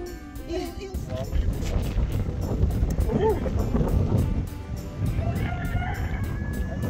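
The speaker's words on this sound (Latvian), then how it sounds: "Tur ir kaut kur gailis." A rooster crows somewhere in the distance while out walking on Gozo. It is faint and partly buried under steady wind noise and people talking nearby.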